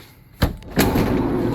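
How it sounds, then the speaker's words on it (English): The sliding side door of a 1971 VW Westfalia bus rolls open: a sharp knock, then a heavier clunk, followed by a steady rolling rumble. It sounds close, with no talking. "Let me open this side door for you. The door rolls nice and straight and true."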